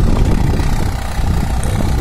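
A Swaraj 744 XT tractor pulling a nine-tine tiller cultivator through farm soil gives a loud, continuous low diesel rumble and churning drone, heard close and unbroken with no talk.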